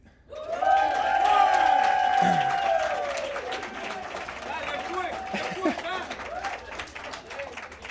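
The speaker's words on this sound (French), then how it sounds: "j'aimerais par applaudissement le monde du Québec" A wedding crowd cheers and applauds for guests from Quebec during a groomsman's speech, a loud burst of whoops and voices that swells early, then settles into scattered clapping and chatter.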